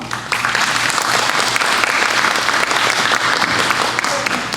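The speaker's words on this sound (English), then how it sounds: "Let's give her a lovely clap." A church congregation at a Sunday class bursts into warm, steady applause, a thick wash of many hands clapping evenly throughout at close range.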